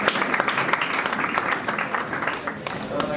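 An audience applauds at a church prayer conference, with a dense patter of clapping heard up close and a voice speaking over it.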